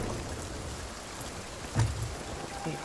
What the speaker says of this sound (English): We're almost out of the storm.